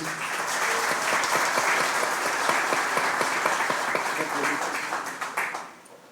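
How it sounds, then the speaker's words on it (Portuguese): A seminar audience gives sustained applause in honour of Marilene, a dense and even wash of many hands that thins and fades out near the end. "Uma salva de palmas à Marilene."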